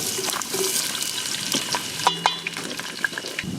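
Chillies and onion fry in a pan at a campsite near a jungle, with a crackling sizzle, sharp utensil clinks and scrapes against the metal, heard close with no talking.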